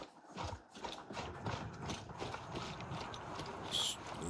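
Horse hooves clip-clop in a steady rhythm in the video game Gray Zone Warfare, quiet and fairly close, with faint mechanical clicks mixed in.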